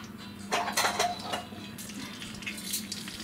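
A spoon clinks and scrapes against a pan while shakshuka cooks, a few bright metallic knocks and stirring scrapes over a low sizzle, close by and moderately loud, no speech.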